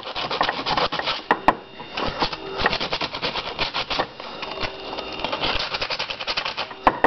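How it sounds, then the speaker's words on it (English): Sandpaper rubbed by hand over a magnet from a Poulan Wild Thing chainsaw, a dense run of quick rasping strokes close up, steady and unbroken for several seconds with no talking. "take some sandpaper and just sand it until it's not brown."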